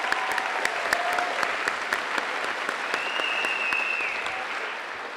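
An audience at a 2023 Renaissance High School graduation ceremony gives sustained, even applause. The dense clapping is heard from a middle distance with no voices over it.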